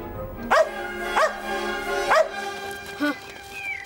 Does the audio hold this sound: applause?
no